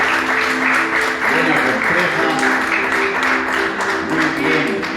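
Church congregation applauding during a worship service, a full, sustained wave of clapping from many hands with voices faintly mixed in beneath, holding steady for the whole stretch.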